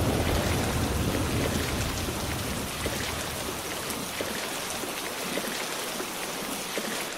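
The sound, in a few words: heavy rain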